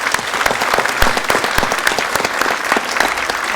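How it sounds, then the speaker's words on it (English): Loud, dense applause from a crowd, steady and continuous throughout, with no talking over it. "I would like you to give you a warm applause."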